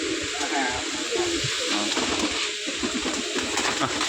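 Black Giribaz pigeons from Rajshahi coo softly in low, burbling calls while a person talks nearby over a steady background hiss.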